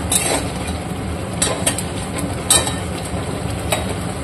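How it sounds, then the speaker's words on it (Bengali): Tomatoes sautéing in oil for a chicken curry make a steady close sizzle, with a few sharper stirring scrapes and clinks breaking through at intervals. "ততক্ষণ পর্যন্ত টমেটোটা কষছে"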